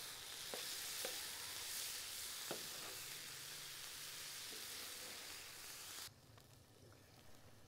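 Tomatoes and green chillies cook in a pan for tawa kaleji masala, producing a quiet, steady sizzle with occasional sharp stirring clicks before the frying sound suddenly drops away.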